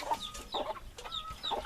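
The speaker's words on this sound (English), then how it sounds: "As you can see, the chickens love their new food." Chickens cluck softly and repeatedly at close range, short clucks overlapping with light pecking and scratching sounds.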